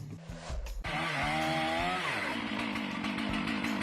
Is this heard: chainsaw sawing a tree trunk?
yes